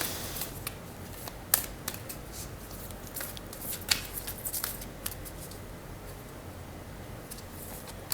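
Tarot cards shuffled in a quiet room, a steady soft riffling broken by occasional sharper snaps, close up, with no voice.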